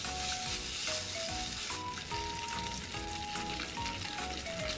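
Beef and broccoli stir fry sizzling steadily in a hot pan, a constant close crackle and hiss with no one speaking.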